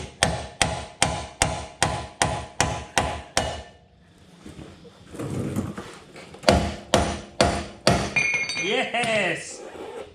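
Sharp, evenly spaced hammer blows drive a ball joint splitter into 4x4 steering parts, about eight quick metallic strikes, then a pause with rattling, another burst of blows, and a voice exclaiming at the end.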